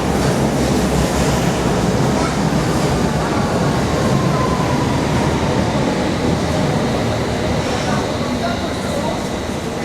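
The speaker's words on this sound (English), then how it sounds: "The train has arrived." A semi-fast Metropolitan line underground train to Cheshire arrives at a King's Cross St Pancras platform, a loud, steady rumble and roar filling the station with a faint rising squeal of wheels.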